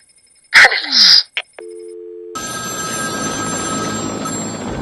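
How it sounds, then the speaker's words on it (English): A telephone rings in the Batman Arkham City video game, two bright electronic ring bursts up close, followed by short tones and then a steady ambient hum. "There's a phone ringing somewhere."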